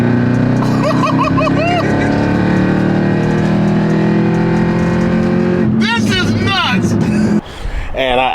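A Chevrolet Camaro ZL1 on a race track revs loudly during a downshift. The engine holds a sustained, rising and falling roar throughout, with someone talking over it.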